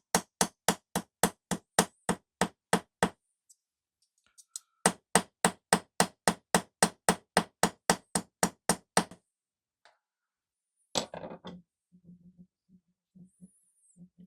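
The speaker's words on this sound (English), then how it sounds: "I want to use a ball peen hammer" Steady ball peen hammer taps texturing a silver pendant, in two long runs of even, rapid strikes, a brief pause between them, then a few scattered softer knocks at the end.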